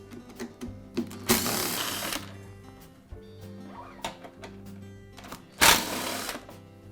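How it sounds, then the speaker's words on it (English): A powered driver whirs in short bursts against screws in the motor housings of a DeWalt air compressor, with clicks and two loud sharp whirring spikes, close up and without talk. "I'll begin by removing the motor housings. They're held in place with a series of screws."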